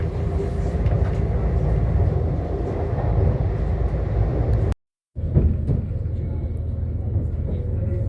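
A West Midlands Railway Class 196 train runs between Birmingham New Street and Shrewsbury, giving a steady, loud interior rumble and rolling roar that cuts out for a moment, then resumes at the same level.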